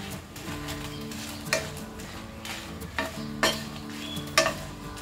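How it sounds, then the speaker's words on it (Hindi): Dry red chilies, Byadgi and Kashmiri, roast in a dry pan on a gas stove, with soft scraping stirs and several distinct utensil scrapes and taps against the pan over a faint background. "इसे ड्राई रोस्ट करेंगे।"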